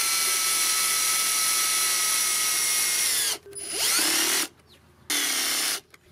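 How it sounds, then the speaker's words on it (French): Cordless power drill driving screws at low speed and the lowest torque setting while assembling a Lidl Florabest scarifier-aerator: a steady high motor whine for about three seconds, then two short, louder bursts with brief pauses between them, no talking. "Alors ceux qui seraient tentés comme moi de visser avec une perceuse, surtout mettez-vous en petite vitesse et mettez-vous au couple le plus faible."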